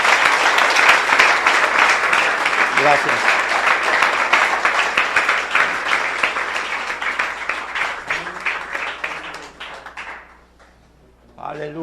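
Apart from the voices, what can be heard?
church congregation applause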